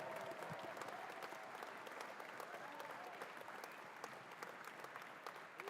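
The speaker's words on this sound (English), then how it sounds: "A round of applause for those visiting teams as well." A crowd at the Australian Junior Volleyball Championships finals on the show court claps for the visiting teams, a steady, fairly distant wash of applause throughout with faint voices mixed in.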